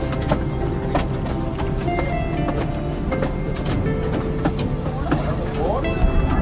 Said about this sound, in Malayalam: ട്രെയിൻ വന്ന് ഞങ്ങൾ കയറുവാണ്.